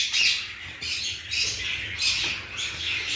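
A pet bird in breeding condition lets out loud, harsh squawks in several bursts roughly every half second to a second, close to the microphone with no talking.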